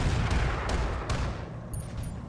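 Weapons fire in the mech combat game Roguetech, a dense rumbling barrage of heavy thuds with a few sharper reports, steady and loud throughout the short stretch, with faint high electronic tones near the end.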